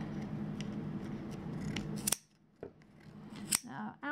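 Sharp scissors trimming a fluffy yarn pom pom made on a Clover pom pom maker, a dense run of close snipping followed by a few separate crisp snips amid quiet pauses, with no talk.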